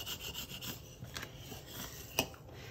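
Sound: Cricut scraper tool burnishing vinyl down

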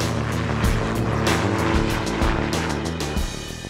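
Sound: gyrocopter flying

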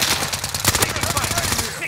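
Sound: gunfire in Call of Duty Warzone video game

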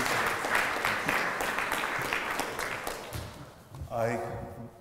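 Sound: audience applause welcoming a lecturer

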